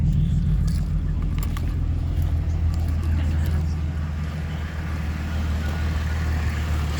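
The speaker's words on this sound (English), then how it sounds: "Oh, it started pretty good. Sounds pretty good, don't you reckon? Yeah. It's a cold start for you." A Holden VE SV6 V6 engine idles steadily after a cold start, a constant low rumble close by with light mechanical ticking on top and no break in its rhythm.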